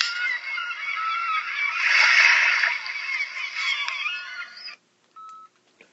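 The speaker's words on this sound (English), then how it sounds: "White birds were flying in the sky." Seabirds honk and call loudly by the seashore in a dense, continuous chorus that swells in the middle and then cuts off, leaving a brief faint tone.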